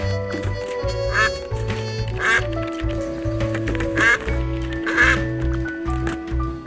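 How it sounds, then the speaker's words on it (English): Repeated duck quacks from the quack button in the video game Duck Detective: The Secret Salami, four or five clear quacks spaced about a second apart over steady background music. "of course it has a dedicated quack button"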